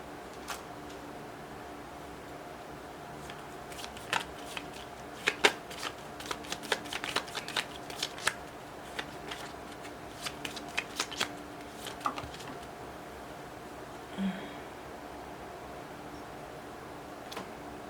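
Tarot cards being shuffled by hand: a quiet run of soft papery riffles and flicks in irregular bursts, with gaps of near silence between them and nobody speaking.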